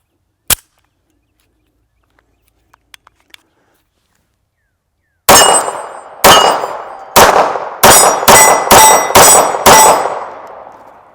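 Seven sharp pistol shots from a Bersa Thunder 380 firing Aguila 95 grain full metal jacket rounds, spaced about a second apart and loud and close, after a lone early crack and a few faint clicks.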